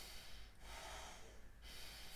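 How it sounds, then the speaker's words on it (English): A single breath sniffed in sharply through the nose, a close, airy rasp lasting about a second, with quiet before and after. "That's me sniffing the breath, kind of pulling it into my nostrils"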